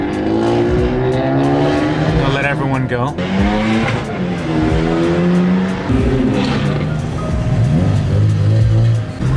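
Several modified cars revving and accelerating hard as they pull out of a Saturday karts-and-coffee car meet, loud and close with tire squeal and rising engine sweeps, while people talk over the noise.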